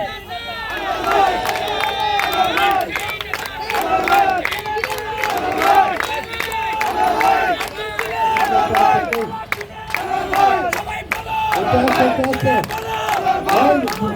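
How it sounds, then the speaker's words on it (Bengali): A dense crowd at a political rally in Bangladesh chants slogans loudly and continuously, with rhythmic surges of massed voices and shouts filling the whole stretch. "স্লোগান বন্ধ করো, স্লোগান বন্ধ করো।"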